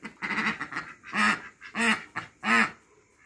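A female duck quacks in a series of loud, close, nasal calls, several short bursts followed by three longer distinct quacks in a steady rhythm.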